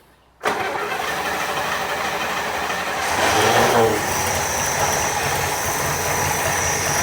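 An International Scout engine fitted with a new carburettor cranks and catches, a sudden loud start settling into a rough, steady running drone that swells briefly before evening out, close by with no talking.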